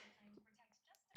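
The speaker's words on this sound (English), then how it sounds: "I have to sneeze now." A single sudden sneeze bursts out loudly at the very end, following near-silence broken only by faint murmurs.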